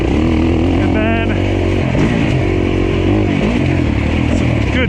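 A dirt bike rides a trail over roots during a suspension test loop, its engine buzzing loud and continuous with small throttle changes and clattering, while a rider talks throughout.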